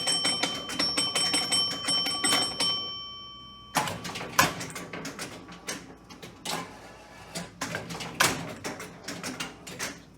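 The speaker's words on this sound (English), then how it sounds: "I love the old EM games with the chimes." A 1970 Williams Hit n Run baseball pitch-and-bat electromechanical arcade machine rings its chimes in bright, ringing dings, first in a rapid rhythmic run, then after a pause in irregular clusters of strikes and clunks, close and loud with no talking.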